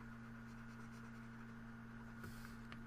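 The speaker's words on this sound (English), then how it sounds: "I'm going to erase this" A pencil eraser rubs a line off a paper graph in a short, soft, steady scrubbing that runs for about three seconds, faint and close, with no talk over it.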